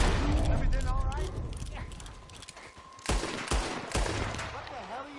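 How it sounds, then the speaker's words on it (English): Gunshots in the video game Red Dead Redemption 2, loud sharp reports with mechanical clatter mixed under game voices and background sounds, including a few heavy close shots in the second half. "What the hell are you shooting at?"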